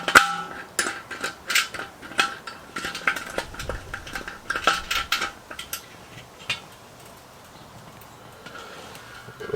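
Metal parts being threaded and screwed together while assembling a Char-Griller kettle grill, a run of close, bright clinking and scraping taps through the first half, then quieter handling noise.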